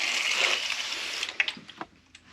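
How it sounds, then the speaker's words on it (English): A small $5 dollar-store pump water jug sprays water onto plants in a steady hiss that tapers off into a few drips and spurts, with no talking. "I got this little water jug. Pump it."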